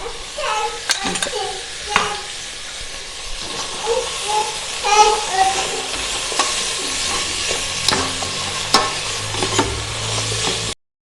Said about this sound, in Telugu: ఆలు క్యారెట్ కొంచెం వేగినాక అల్లం వెల్లుల్లి పేస్ట్ వేసుకోవాలి